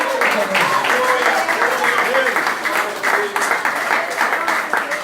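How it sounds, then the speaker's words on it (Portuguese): A church congregation claps hands in worship, steady rhythmic clapping that continues under a loud voice preaching and singing. "Bate palmas, porque é digno de honra, de glória, de louvor."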